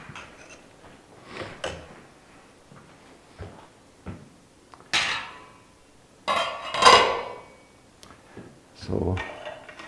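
Spoon stirring food in a pot during home cooking, with scattered clanks and scrapes of metal on cookware coming in irregular bursts, some louder knocks near the middle.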